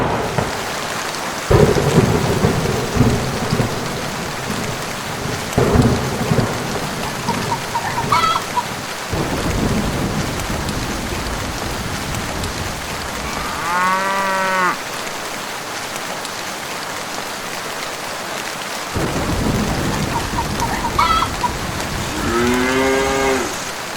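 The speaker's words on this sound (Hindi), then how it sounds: "अरे बाप रे, लगता है बहुत तेज बारिश होने वाली है।" Thunderstorm with heavy rain pouring steadily across a farm setting, thunder rumbling at intervals, and a cow mooing twice in the background between the booms.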